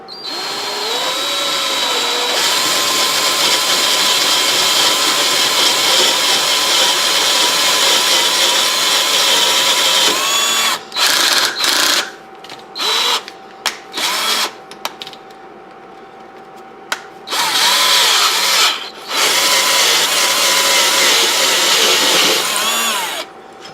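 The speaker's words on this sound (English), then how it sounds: "Just want to drill down to the edge of that tape there." A power drill whines loudly and steadily, biting through the metal of an old meat grinder, then stops and restarts in short bursts before a final long run.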